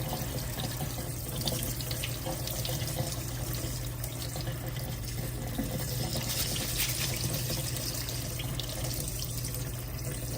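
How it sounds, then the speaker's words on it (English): Tap water running steadily into a bowl while rice is rinsed, a continuous hiss and splash, close and fairly loud, with no talking. "I'm supposed to rinse off the rice"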